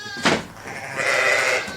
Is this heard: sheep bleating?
yes